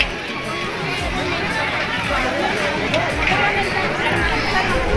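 Dense crowd chatter at a wedding reception, a continuous babble of many overlapping voices with no single speaker standing out.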